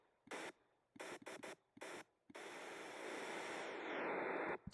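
An 8-bit chiptune white noise drum for hi-hat or snare, heard as a run of short staccato hissing bursts, followed by a long sustained hiss that slowly brightens before stopping abruptly.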